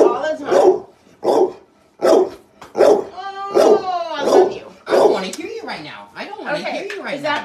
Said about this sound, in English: is barking at us because we're hugging